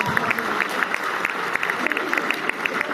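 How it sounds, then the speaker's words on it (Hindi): Audience applause at a Hindi humorous poetry gathering during a spring festival in Rishikesh, a continuous crowd clapping with scattered sharper claps, moderately loud, alongside some murmuring voices. "आप लोग जोरदार तालियां बजाते जाइए, बजाते जाइए, बजाते जाइए।"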